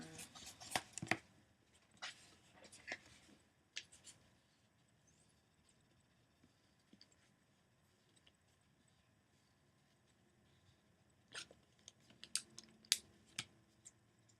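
Paper snipped with scissors while cutting out tiger stripes for a mask: quiet close-up cutting clicks and rustles in short bursts at the start and again near the end, with near silence in between.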